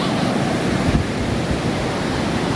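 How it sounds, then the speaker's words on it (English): Sea waves wash over bare feet at the shore with a close, loud, continuous rushing roar, mixed with wind buffeting the microphone. "I'll stand in the water, I'll be in the moment, I'll watch the sea over my feet"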